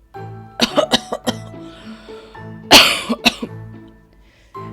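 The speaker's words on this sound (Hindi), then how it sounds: "एक कुटिया नजर आती है जिसमें से खांसने की आवाज आती है।" Someone nearby coughs repeatedly in short bursts, with one harsher, rasping cough midway through. There is no talking.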